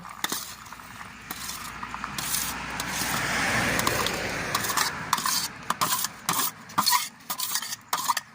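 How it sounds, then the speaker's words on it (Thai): Peanuts and chili dry-roast in a pan, with a rough, continuous scraping and rattling as they are stirred, then a run of sharp, rhythmic scrapes and knocks toward the end. "ต่อไปก็เอาบักทั่วลงจ้ะคั่วกับพริกจ้ะ"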